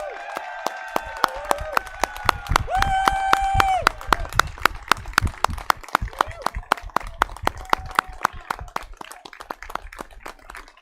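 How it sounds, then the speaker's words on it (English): Audience applauds the newly commissioned Army second lieutenants of Providence College's Army ROTC Patriot Battalion at a 2021 commissioning ceremony, with sharp, scattered claps continuing for several seconds while faint voices and tones sit beneath them. "please join me in a round of applause in congratulating the Army's newest second lieutenants"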